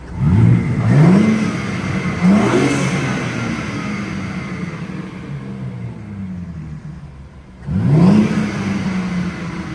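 A BMW G80 M3 Competition with front mount intakes revs hard several times in M2 mode, the exhaust roaring up and settling into a loud rumbling idle between each throttle blip.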